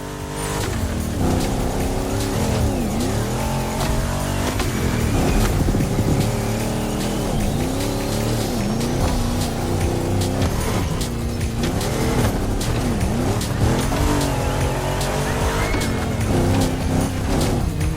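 Racing car engines roar and rev continuously in The Crew Motorfest during a dirt-road race, the loud engine drone shifting pitch with acceleration over game music, with occasional tire noise.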